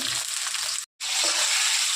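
Potatoes fry in hot oil with cumin, salt and turmeric, a loud, steady sizzle broken by a short silent cut in the middle, with no talk.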